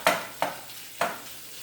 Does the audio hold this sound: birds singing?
no